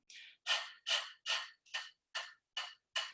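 A person imitates a dog panting with its mouth open: eight quick, breathy pants in a steady, even rhythm, close and fairly soft, with no talking.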